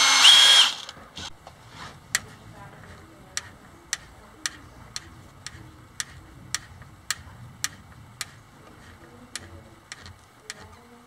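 Tiny screws driven into a small boat rudder: after a brief loud burst at the start, a run of sharp, evenly spaced clicks follows, like a ratcheting driver, close and fairly quiet, with no talk.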